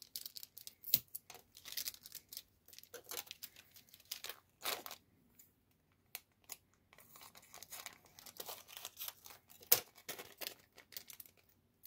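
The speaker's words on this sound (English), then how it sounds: "I'm gonna use this double-sided tape" Double-sided tape being pulled, torn and pressed onto a paper envelope for a handmade shaker card, a series of faint, close crinkles, rips and tapping rustles with brief pauses between them.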